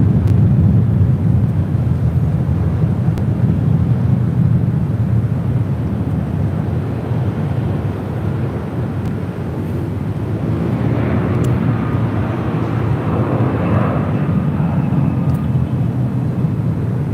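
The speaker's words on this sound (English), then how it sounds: "This is Philippine Airlines Flight 113 taking off to Manila on a 777-300ER." A Philippine Airlines Boeing 777-300ER takes off from LAX on a flight to Manila. Its jet roar is loud and continuous, with a broad rumbling low end, and a rising whine joins in partway through as the aircraft climbs away.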